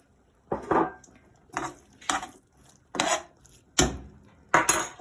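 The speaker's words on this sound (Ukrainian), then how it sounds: "Висипаємо наші баклажани." Eggplant pieces tipped into a pot for a meatless eggplant vegetable soup, heard as six or seven separate clattering, scraping bursts with short pauses between them, close and fairly loud.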